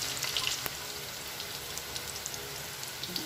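Tokwa (firm tofu) frying in a pan for a pork-and-vegetable dish: a dense, steady crackling sizzle that stays even and close throughout, with no voices.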